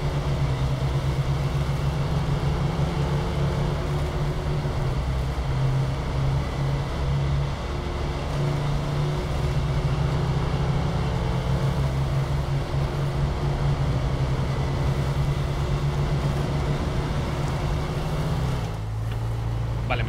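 A truck engine in the off-road driving game SnowRunner drones loud and steady as it drives with a trailer, a continuous low rumble that holds throughout with a slight shift in tone near the end.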